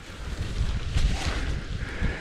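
Gusty wind during parachute canopy packing buffets the microphone with low, rumbling blasts and a constant rushing noise, with no voices heard.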